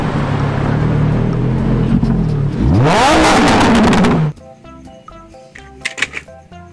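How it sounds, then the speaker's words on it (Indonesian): A red toy Lamborghini racing car plays a loud engine-revving sound effect that rises sharply in pitch, then cuts off into softer tinkly music and electronic chirps. "Mobil balap Lamborghini teman-teman."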